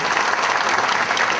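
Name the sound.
applause at a volunteers' evening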